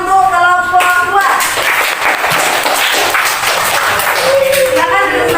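Applause from a classroom of students for a student presentation group during an Islamic religious education lesson, steady clapping throughout, with a voice speaking over the start and end.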